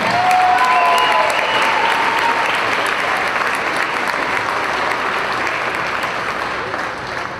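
A gym crowd at a college women's basketball game, Grace at Taylor, applauds a senior player in a long, loud, sustained roar of clapping that tapers slightly toward the end, with faint whistles early on.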